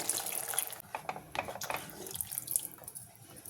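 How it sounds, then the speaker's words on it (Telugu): Half a cup of water is poured into a makhana masala curry, splashing and trickling in short irregular bursts, close and moderately loud, then thinning out toward the end. "ఇప్పుడు వాటర్ వేసుకుందాం నేను ఒక హాఫ్ కప్ వాటర్ వేసుకుంటున్నానండి"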